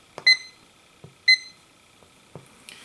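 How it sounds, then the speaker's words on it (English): A Grundig S450DLX AM/FM shortwave field radio gives short electronic tuning beeps as it wraps from the top of the band back to the bottom: two clear beeps about a second apart, with faint clicks between them. "every time you go over the band and fall back to the bottom, you hear that beep"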